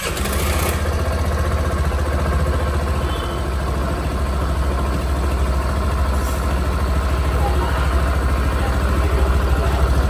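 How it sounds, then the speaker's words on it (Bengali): A Suzuki Access 125 fuel-injected scooter engine runs steadily, a loud continuous low drone with a constant rumble throughout and no clear revving changes. "সুজুকি অ্যাক্সেস 125 বাইকটি মূলত এফআই একটা ইঞ্জিন।"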